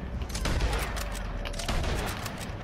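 Rapid bursts of gunfire in the Red Dead Online video game, dense overlapping shots crackling continuously at high level throughout, with no clear pauses between volleys.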